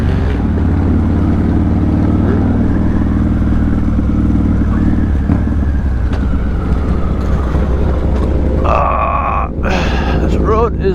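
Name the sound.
motorcycle riding over a rough brick road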